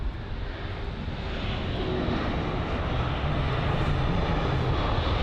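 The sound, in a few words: British Airways Airbus A320neo jet at Heathrow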